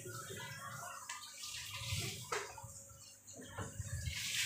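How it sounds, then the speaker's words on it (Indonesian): Strong, rushing water flow from a Yamano pump in a home aquarium with a rear filter, a steady splashing wash heard close and fairly loud throughout. "Pompanya pakai Yamano. Ini benar-benar deras alirannya."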